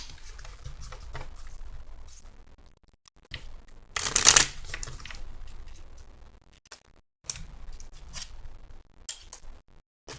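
Tarot cards being shuffled close up, with soft riffling bursts and taps in irregular bunches and one sharp, loud riffle in the middle.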